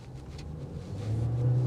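A 2025 Volkswagen Jetta Sport driving by, a brief low engine rumble that grows louder as the car nears.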